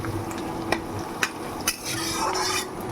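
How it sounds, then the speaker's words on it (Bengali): Onion and chilli frying in a pan for an iftar dish, a soft steady sizzle broken by three sharp clinks of a spatula stirring against the pan. "আগে পেঁয়াজ আর লঙ্কাটা রাল করে নিচ্ছি"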